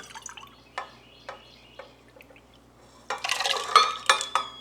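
Stirring and clinking in a bowl of egg mixture, soft intermittent scrapes, then a louder burst of milk splashing in and utensil clatter toward the end.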